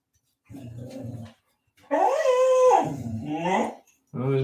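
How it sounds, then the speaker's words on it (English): A herding dog indoors gives anxious whining howls and barks in a few drawn-out, close, fairly loud bursts with short pauses between them. "there's my dog again"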